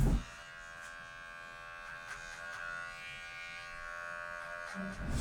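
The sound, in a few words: Wahl cordless Magic Clip hair clipper cutting hair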